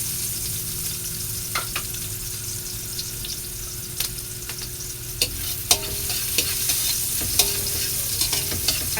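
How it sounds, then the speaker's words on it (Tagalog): Onion and ginger sautéing in a pan for batchoy, with a steady broadband sizzle under scattered scraping clicks of a utensil stirring; no one speaks. "Igisa natin."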